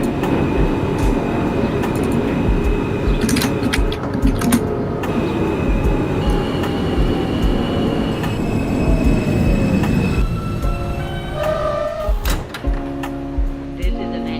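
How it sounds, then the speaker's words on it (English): A New York subway Q local train runs in the OpenBVE rail simulator, with a loud continuous rumble of wheels on track, squealing metal and clanks, and shifting motor tones as it slows. "This is a Manhattan-bound Q local train."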